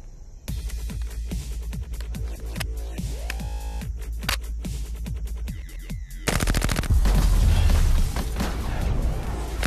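Real firearm shooting live rounds at a range, a rapid series of sharp loud bangs with ringing echoes, then a heavier, denser burst of fire near the end.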